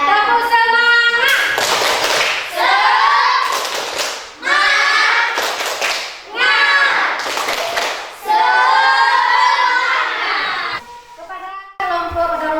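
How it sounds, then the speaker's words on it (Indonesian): Classroom pupils chant a rhythmic spirit cheer together, their voices carrying throughout, punctuated by bursts of sharp group claps in a steady repeating pattern, ending with a short pause and a final clap. "Tepuk semangat."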